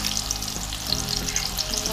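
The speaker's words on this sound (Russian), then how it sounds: "Бургер наш жарится." Beef burger patty frying in a pan with an egg cracked into its centre, a steady loud sizzle and crackle running continuously with no voices.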